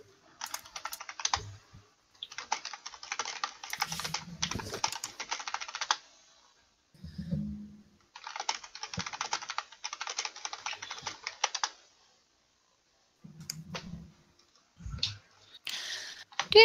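Bursts of rapid typing on a computer keyboard during a gaming session, coming in several long runs of close, crisp clicking separated by pauses, with brief low sounds in the gaps.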